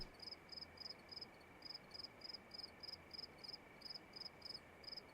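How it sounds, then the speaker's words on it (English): Faint crickets chirp at night beside a fishing spot in Russia, a steady series of short, evenly spaced high trills repeating over a quiet background hiss, with no voices. "If we all be quiet for 1 second, you can hear the crickets."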